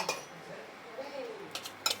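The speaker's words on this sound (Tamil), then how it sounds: "அடுத்து நம்ம தேங்காய் போட்டுக்கலாம்." Coconut is tipped into a cooking pan for roasting while preparing beef gravy. A metal spoon clinks and scrapes against the pan in a few sharp, close taps over a soft, quiet background.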